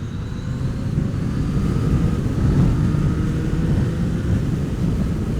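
A Yamaha MT-09 motorcycle engine runs as a steady, loud, low rumble that swells slightly partway through, heard continuously from a riding position with light rain about.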